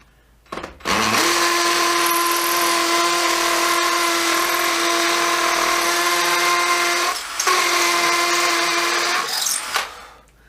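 A Dewalt DCD776 cordless drill bores into material, its steady high-pitched motor whine running close and loud for about six seconds, dipping briefly, then resuming before cutting off.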